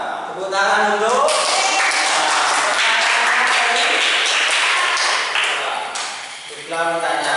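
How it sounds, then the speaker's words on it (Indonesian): A classroom full of students claps hands together for a classmate, a steady, dense patter of many hands lasting several seconds, with voices talking faintly at the start and end. "Tepuk tangan untuk"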